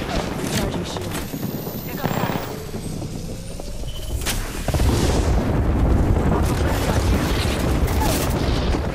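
Artillery strike in the video game Apex Legends, heavy booms and blasts rumbling through the mix, growing louder and denser in the second half, with voices talking over the barrage.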